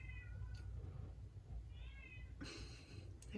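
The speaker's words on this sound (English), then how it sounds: "Dee, it's my cat. She's saying hi." A house cat meows several times nearby, drawn-out calls over a low indoor hum.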